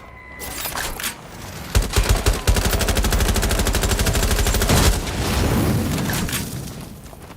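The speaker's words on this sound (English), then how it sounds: "Someone's shooting." Gunfire in the video game Watch Dogs Legion: a loud, close burst of rapid automatic fire, a few heavy single shots first, then a long rattling volley that fades into reverberant rumble.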